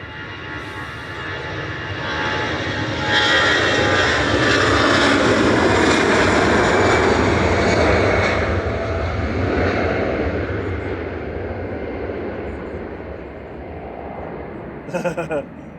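An EasyJet Airbus A320 Classic jet airliner at Manchester Airport produces a broad, loud roar that swells for several seconds and slowly eases off, with a brief rattle near the end.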